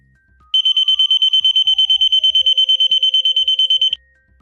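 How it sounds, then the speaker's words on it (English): A loud, shrill 80-decibel motion sensor alarm siren beeps in rapid, steady pulses for about three seconds, then cuts off abruptly. "The alarm will sound an 80 decibel siren when motion is detected"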